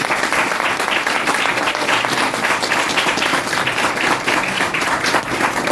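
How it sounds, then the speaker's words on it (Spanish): Sustained audience applause closing a university lecture, dense and steady at a loud, even level throughout with no pauses. "Un gran aplauso."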